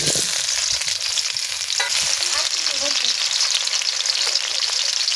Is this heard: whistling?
no